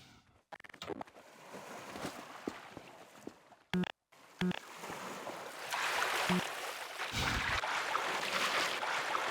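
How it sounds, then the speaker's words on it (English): Water rushes and sloshes steadily as a boat moves along in Half-Life 2: Episode 3, growing fuller and louder, with brief gaps and thumps earlier. "we back on our trusty boat"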